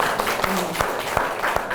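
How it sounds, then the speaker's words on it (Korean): An audience at an indoor labor-union forum claps, a continuous wash of hand claps with a few sharper claps standing out at a steady pace. "큰 박수를 보내드리겠습니다"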